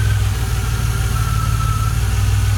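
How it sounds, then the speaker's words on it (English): A DeLorean engine idles while warm, holding a loud, steady low rumble with a slightly lumpy, wavering RPM sweep throughout, close to the microphone. "the sweep I get when I'm in idle when the engine is warm"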